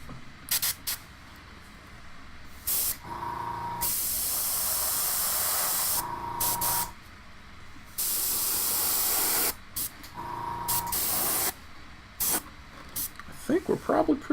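An airbrush sprays paint onto a miniature Imperial Fist model in repeated long hissing bursts of several seconds, separated by short pauses with clicks and handling noises, steady and close.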